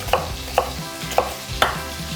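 Half an onion being cut on a cutting board with a knife for a summer vegetable grilled curry, four crisp, evenly spaced chops close by, no voices.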